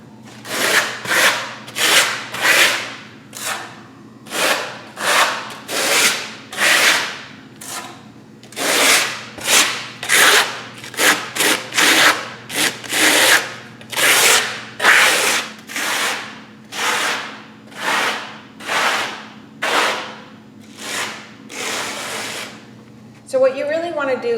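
An Atova Linear Effect Tool drags across a sample board applying a textured coat, giving repeated rhythmic scraping strokes of even length, loud and close, with a brief voice at the end.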